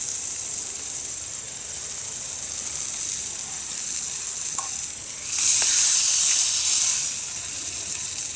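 Food sizzling and hissing over an open campfire, a steady frying crackle that swells louder for a couple of seconds midway before settling back, with no talk over it.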